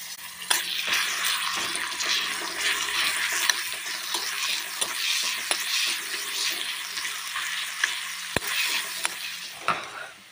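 Chopped onion and crushed garlic frying in oil for a simple vegetarian curry, a close crackling sizzle with repeated stirring scrapes and occasional sharp clicks of a spoon on the pan, no voices.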